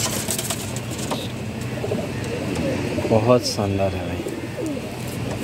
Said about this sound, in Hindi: सिंगल दुम का कबूतर है